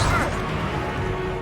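A Confringo blast spell in Hogwarts Legacy lands as a loud, crashing burst right at the start, then fades into a rough, rumbling decay.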